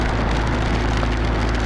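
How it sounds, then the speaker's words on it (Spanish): Steady rain pours down in Alaska in a dense, even hiss, with no voices, holding at a constant level throughout. "la lluvia no quiere dar tregua"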